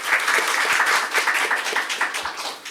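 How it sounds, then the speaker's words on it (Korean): Audience applause welcoming a professor introduced as a speaker at a Seoul National University policy forum on national health insurance finances; steady, fairly loud clapping from a crowd throughout, with no talk. "박수로 환영해 부탁드립니다."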